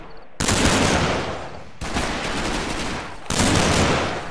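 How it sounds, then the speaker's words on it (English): Gunfire crossfire in Combat Mission Market Garden, a wartime strategy video game: continuous, loud bursts of rapid shooting that swell in three waves, layered machine-gun and rifle fire with no pause. "these combat guys coming under uh, crossfire."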